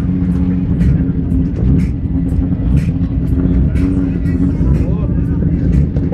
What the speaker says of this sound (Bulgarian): Очакваме Пламен Стайков с Mitsubishi Lancer Evo 9